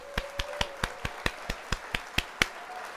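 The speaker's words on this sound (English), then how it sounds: "So let's hit the applause there." A stream-overlay applause effect during a build-with workshop livestream, heard here as about eleven crisp, evenly spaced claps or snaps at a steady rhythm, each fairly loud and isolated against a quiet background.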